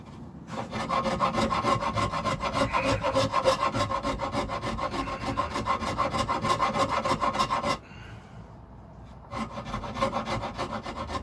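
Wood is hollowed by hand with a rasp or file on a Goldtop Les Paul guitar body, a close, rhythmic back-and-forth scraping that runs steadily, pauses briefly near the end, then resumes, with no talk.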